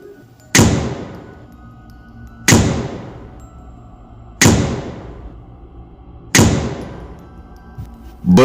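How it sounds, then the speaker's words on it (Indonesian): A fireball strikes glass over and over as a spooky story effect: four loud, sharp impacts roughly two seconds apart, each a heavy clanging hit that rings and fades before the next, with no voices. "Benda itu terus-menerus menghantam kaca seolah memiliki kekuatan hidup."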